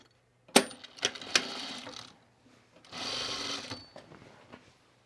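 A home sewing machine stitches the side seams of a Closet Core Carolyn pajama top, starting with a sharp clack, running in short bursts with rapid mechanical whirring, then a longer steady run after a pause.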